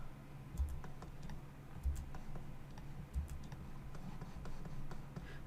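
Computer keyboard shortcut keys are pressed while modeling in 3ds Max, a series of close, light clicks and taps over a quiet room hum, with a few heavier keystrokes spaced about a second apart.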